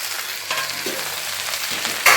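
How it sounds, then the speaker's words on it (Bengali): Okra fries in a covered wok with little oil, giving a low steady sizzle with a few soft clicks and a louder burst near the end, heard alone without talk. "এখানে রান্না হচ্ছে ঢেঁড়স ভাজা"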